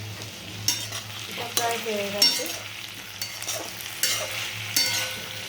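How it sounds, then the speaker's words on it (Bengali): Mixed vegetables with ginger and garlic stir-fried in a wok, a steady close sizzle broken by repeated scraping stirs every second or so, with a brief voice speaking partway through. "এই সবজিগুলো একটা একটা করে কড়াতে দিতে থাকছি। আগে একটু ভালো করে কষিয়ে"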